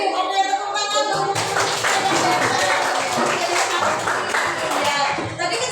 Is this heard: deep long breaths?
no